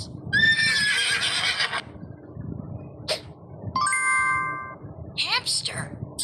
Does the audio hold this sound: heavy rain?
no